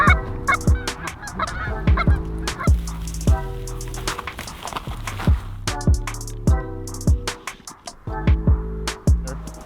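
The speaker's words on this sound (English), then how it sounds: "It's what I call the ghetto goose call." A homemade PVC goose call blown in a rapid series of loud, close honks and clucks, coming in clustered bursts with short pauses between them.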